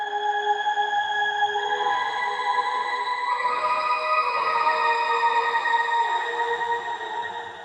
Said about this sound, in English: the Octo reverb tends to make every tone sound very much alike